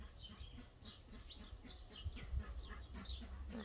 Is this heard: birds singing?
yes